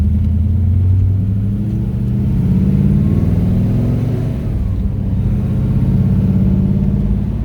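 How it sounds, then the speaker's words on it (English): The 383 stroker V8 engine of a 1966 Chevrolet Caprice resto-mod rumbles steadily nearby, a deep, continuous running sound with slight swells in power and no talking. "You get in and you turn the key."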